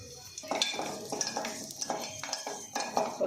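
Onion frying in a pan for tempering, with metallic clinks and scraping of a utensil against cookware over a light background sizzle, irregular and close.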